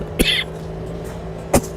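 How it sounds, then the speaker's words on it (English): A man coughing, heard as two short sharp bursts about a second apart, close to the microphone over a faint steady background hum. "I'm going to struggle to stop coughing now."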